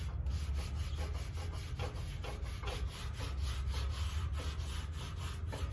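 A rag rubs caked grease off a recteq Bullseye grill near the vents, making close, repeated back-and-forth scrubbing strokes in a quick, even rhythm with no talking.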